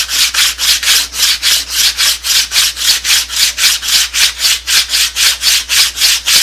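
Wood sanded flat by hand with 180 grit sandpaper, loud close-up rasping strokes in a steady back-and-forth rhythm, roughly three per second, with no talking.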